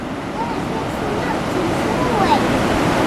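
Ocean surf breaks and washes steadily along an island shore on Siargao, a continuous wash with gentle swells in loudness, while people talk faintly over it.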